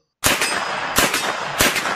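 A gunshot sound effect cracks out three times in quick succession, each sharp burst loud and ringing, in a narration about the 1954 assassination attempt on Rua Tonelero in Copacabana, Rio de Janeiro.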